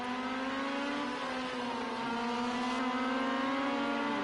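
Rival rally cars lapping in the Rally Fighters racing video game at a Scotland round, a continuous droning engine note with shifting revving pitch, steady and moderately loud throughout.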